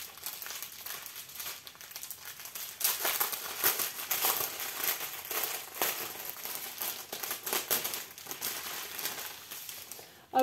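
Cardboard and plastic packaging of a diamond painting kit box being unpacked and unfolded, a continuous close crinkling and rustling that grows busier midway, with crackly bursts throughout.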